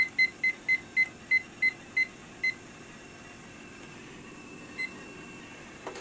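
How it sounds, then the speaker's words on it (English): A kitchen timer beeps in a quick run of about nine short, evenly spaced electronic beeps, followed by a quiet hum with one stray beep later. "I need to start that timer."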